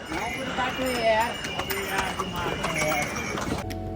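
Horses and mules clip-clop along a narrow shared trek path to Yamunotri, the hoofbeats mixed into steady crowd chatter and outdoor bustle for about four seconds before the sound cuts off.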